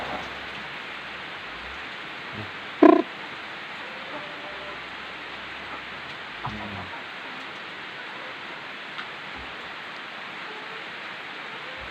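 Steady rain pours down on a rainy, low-pressure day, a continuous close hiss with one brief louder knock early on and a few faint ticks.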